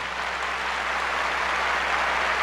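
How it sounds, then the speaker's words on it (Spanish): Congregation at a church gathering giving a loud round of applause, an even, sustained wash of many hands clapping at moderate distance with no voices over it. "Démosle un fuerte aplauso"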